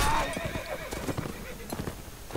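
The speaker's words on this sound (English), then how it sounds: "That's one of the horses." Whinnying horse in the Mount & Blade game, a neigh near the start followed by scattered hoof clatter and rustle, moderately quiet.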